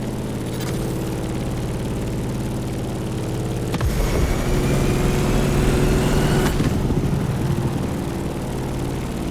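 Airplane flying through turbulent skies in The Crew Motorfest racing game, a steady droning engine and propeller hum that holds throughout, with a rougher, louder passage midway before settling back to an even drone.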